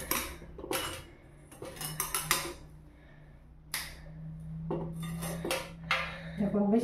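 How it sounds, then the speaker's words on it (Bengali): A knife chops red amaranth stalks into pieces on a board in a home kitchen, with crisp, irregular cutting knocks arriving in short bursts, close and fairly loud. "দেখুন আমি ডাঁটাগুলো এভাবে টুকরো করে নেব"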